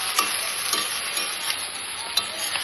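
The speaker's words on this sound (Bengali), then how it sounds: "আলু সব একসঙ্গে মিশিয়ে এখন কষাচ্ছি।" Potatoes and cabbage sautéing in oil in a pan, a continuous bright sizzle with occasional soft spoon scrapes and small taps as the mixture is stirred, close up and steady.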